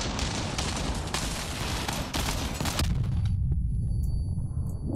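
Heavy gunfire in the Crossout vehicle combat game, rapid overlapping shots and blasts for about three seconds, then a lower rumbling tail with sparse clicks.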